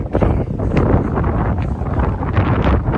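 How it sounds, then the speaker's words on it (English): Strong wind buffets the microphone outdoors in the Italian countryside near a village, a steady loud roar with gusty surges throughout and no talking. "Oh, it's a bit windy."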